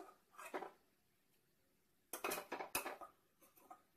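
Cooked lentils tipped into a pan of wilted spinach, with a few clinks of metal spoon against the pan, a brief scrape, then a busier cluster of clattering and stirring knocks close by.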